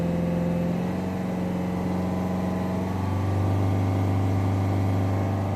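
A Volvo S40 1.6 diesel engine holds steady revs around 3000 rpm, with a droning hum that drops slightly in pitch partway through and carries on without any talking.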